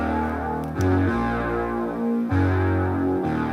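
A thick, buzzing synth line with fuzzy distortion, two layered tones sustaining together as one sound and shifting pitch in a steady, loud pattern.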